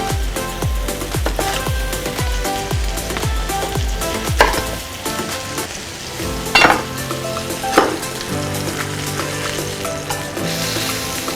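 Dried fish (buwad) sears in a hot pan with a crackling sizzle and occasional stirring scrapes and utensil clinks, mixed under a rhythmic music track that dominates the opening seconds.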